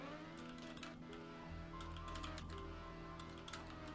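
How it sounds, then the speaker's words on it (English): Rapid, furious tapping on a computer keyboard by a player hammering inputs in a Trackmania driving game, a faint, steady clatter of keystrokes under a low background hum. "And now you hear him tapping his keyboard like a maniac."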